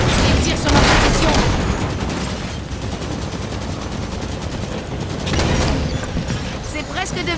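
Sustained enemy automatic gunfire in the Halo 5 campaign, rapid rattling bursts with booming impacts and bright clicking, dense and continuous, with a voice speaking over the game sounds.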